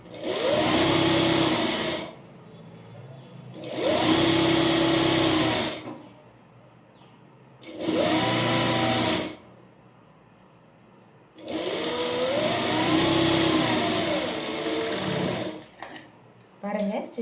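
A sewing machine stitches a folded hem on a jabla in four loud bursts of steady whirring, each about two seconds long, separated by short pauses and followed by brief handling noises.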